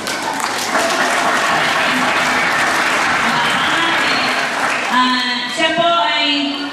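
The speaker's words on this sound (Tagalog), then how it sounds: "ang gusto niya, malakas na palakpak" Loud applause from the audience at a 2010 Little Giant Learning Center graduation ceremony, dense sustained clapping that carries on as voices and a microphone announcer come in toward the end.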